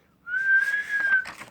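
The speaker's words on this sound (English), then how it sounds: "Henry began to whistle." A person whistles a single sustained, slightly wavering tone lasting about a second, clear and close, followed by a brief soft trailing sound.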